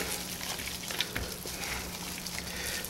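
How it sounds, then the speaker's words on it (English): Ground Italian sausage fries in a pan as it is broken up, a soft, steady sizzle with occasional light crackles and scrapes, fairly quiet and without talk. "Now we're going to put in the pound of the ground Italian sausage and"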